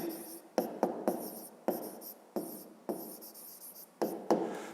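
Pen or pencil writing on paper during a fifth-grade maths exercise, quiet close scratchy strokes in short bursts with brief pauses between them, no talking.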